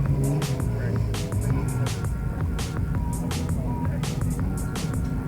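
Stock cars racing in heat 3 at a speedway, a continuous roar of engines with repeated sharp passing bursts and rumbling, steady and loud throughout.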